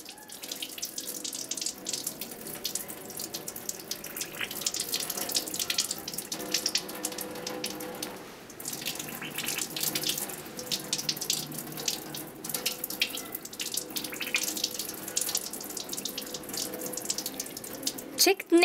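Tap water runs steadily as hands and arms are rinsed under it during a surgical hand scrub, a continuous close splashing hiss that shifts slightly as the limbs move through the stream.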